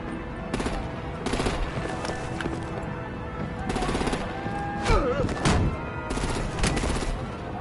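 Gunfire and artillery in Batman: The Enemy Within: scattered bursts of shots at irregular intervals over a dense, noisy action soundscape, with some whistling and clattering sounds between the blasts.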